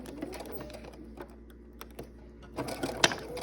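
Sewing machine stitching quilt fabric pieces nearby, a faint irregular mechanical clatter that grows busier and louder toward the end.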